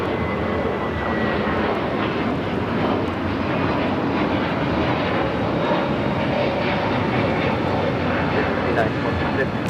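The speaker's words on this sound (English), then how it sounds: "This is a mid-summer night stream taking off to JFK, JetBlue 2074 on the A321neo." A JetBlue Airbus A321neo takes off at LAX at night, bound for JFK, producing a loud, steady jet roar that holds throughout, with a voice speaking over it.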